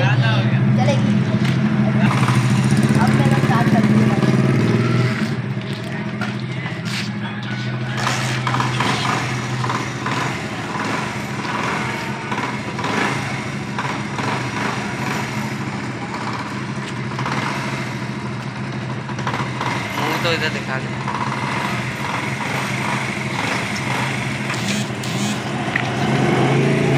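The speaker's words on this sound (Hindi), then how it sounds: "और अभी मैं इसे स्टार्ट करूँगा क्योंकि सर्दी बहुत है, तो गर्म होने चलेगी।" Motorcycle engine started on a cold day and left idling to warm up, a steady low rumble that loudens in the first seconds, then settles into an even idle with background noise over it.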